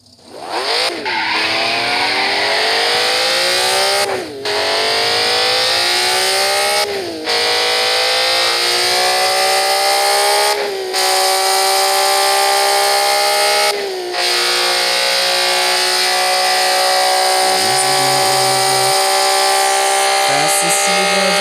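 Car engine sounds played back from a phone app: a loud, close engine revving up again and again, each rev climbing in pitch before briefly cutting out, with no talking.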